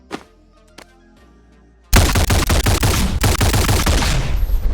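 Full-auto fire from the AER9 laser rifle in the Boneworks VR game, a loud, dense, continuous burst of rapid shots that starts abruptly after a few quieter clicks and keeps going steadily.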